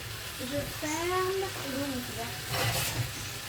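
Green beans cooking in a covered pan with a little water, a continuous bubbling sizzle heard close up while a person speaks over it.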